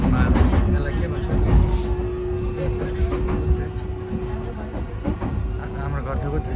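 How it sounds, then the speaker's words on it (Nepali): A train passes close to a house in Japan, a steady rolling rumble with a faint sustained tone, heard near and fairly loud, with people talking over it. "हाम्रो घर छेउको ट्रेन"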